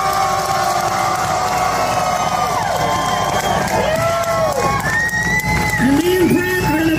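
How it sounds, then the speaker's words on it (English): Concert crowd cheering and applauding after a tribute, a loud continuous roar of voices with whoops and shouts rising and falling, individual yells standing out near the end. "Round of applause for Mr."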